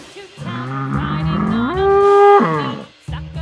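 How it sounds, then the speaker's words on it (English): A bull moos with one loud, drawn-out call that starts low, rises into a strained bellow and falls away, close and alone without speech. "Bull."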